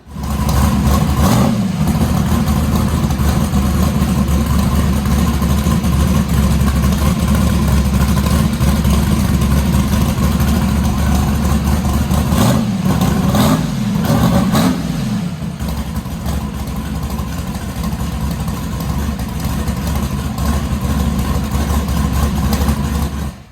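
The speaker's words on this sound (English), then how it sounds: "we fired the truck up to check it out" A Chevrolet S-10 truck engine fitted with new Autolite Racing spark plugs runs loud and steady for a long stretch, with a few short revs breaking the close, continuous drone.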